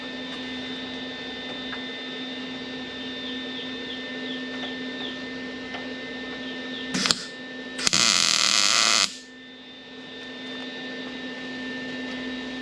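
Tack welding a small bracket for a motorcycle trailer fender on a Kawasaki Versys X, heard as a short hissing burst followed by a louder crackling weld of about a second, set over a steady workshop hum.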